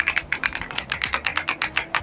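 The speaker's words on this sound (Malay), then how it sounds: "aku nak recommend mechanical keyboard daripada Z-Friend ni, model RX 75 Pro" Rapid typing on a Z-Friend RX 75 Pro mechanical keyboard with a 75% layout, a steady run of close, crisp keystrokes at an even pace, heard alone without voices.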